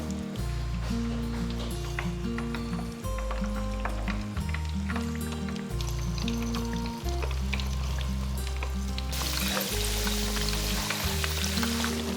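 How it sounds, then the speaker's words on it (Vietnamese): Shrimp and taro fritters for Vietnamese bánh tôm sizzle steadily in a pan of hot oil, a continuous crackling hiss running under loud, prominent music. "Nhanh tay mình cho vá bột vào chảo để chiên nè."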